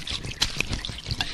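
Half a bottle of brandy poured onto soil, a steady close trickle and splash of liquid running for the whole moment with no talk over it.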